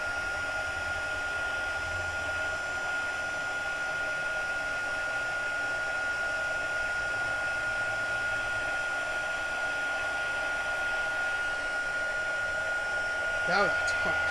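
A not-very-loud heat gun runs steadily for about fourteen seconds, giving a continuous close airy whir with a faint steady whine and a small bump near the end.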